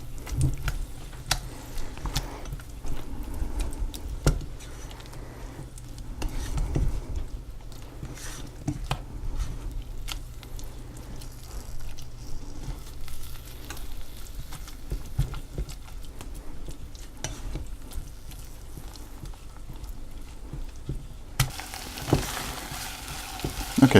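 Homemade BBQ sauce cooking down in a pan over turned-up heat, a steady sizzle and bubble under continuous stirring, with scraping and tapping of the utensil, close and unbroken.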